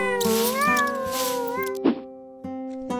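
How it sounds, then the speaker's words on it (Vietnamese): A cartoon cat meows repeatedly in a folk-tale animation, close and clear, with long wavering calls alongside a brief thump and a sustained tone beneath. "Xem ra con mèo này là khá hơn cả."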